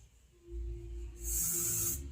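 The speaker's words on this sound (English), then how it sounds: "So I'm just going to mist this through the hair." Goldwell ThermaShape 2-in-1 spray mists onto hair in one soft, close hiss lasting under a second, following a low hum and faint handling noise.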